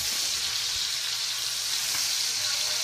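Rosemary garlic butter steak sizzles steadily in a hot pan, a constant bright crackling hiss of frying fat that stays close and even throughout, with no voices.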